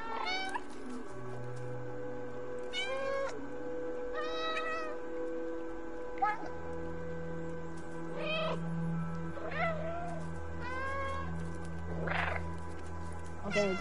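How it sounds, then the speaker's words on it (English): Repeated meows from the cat in the video game Stray, a series of distinct cries spaced a second or two apart over a steady background game hum, with no talking. "I was too busy meowing"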